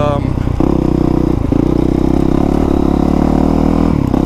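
2020 Honda CRF450R dirt bike engine running loud and close, a steady throbbing drone after a brief rev change at the start, with a second dip and return midway.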